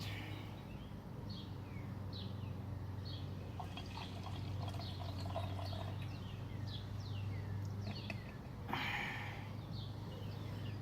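Liquid humic acid pours steadily into a measuring cup outdoors, a soft continuous trickle with birds chirping close by throughout.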